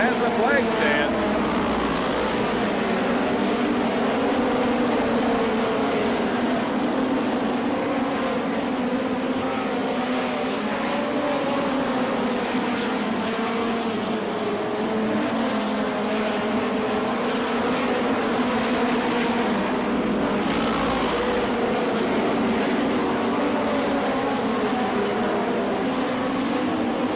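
USAC midget and sprint race cars roar past the flag stand on an oval track, a continuous loud engine drone that swells and fades as cars go by, under a commentator's running call.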